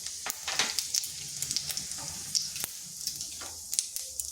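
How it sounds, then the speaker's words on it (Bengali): Whole cumin seeds sizzling in a little hot oil in a kadai while cooking a vegetarian pumpkin curry, a close, continuous frying hiss punctuated by sharp crackles and pops. "আর ফোড়নে দিচ্ছি গোটা জিরে"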